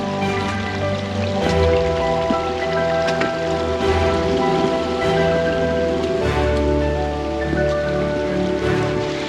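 Water streams steadily down a boggy hill path on Harter Fell in the Lake District, a continuous rushing, trickling flow, close and fairly loud, with no talk.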